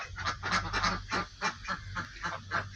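Farm ducks give loud, repeated honking quacks in quick irregular bursts, close by and fairly faint overall, with no talk over them.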